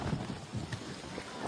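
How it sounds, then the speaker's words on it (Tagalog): Gusty typhoon wind buffeting a microphone outdoors, a steady low roar with soft surges rising and falling across the short stretch, fairly quiet and with no voices. "Ang sarap ng hangin kahit may bagyo."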